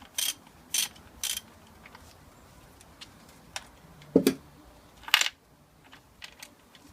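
Ratchet wrench undoing securing bolts in a car engine bay, bursts of close metallic ratcheting clicks separated by pauses, with a couple of louder clunks and small tool handling noises.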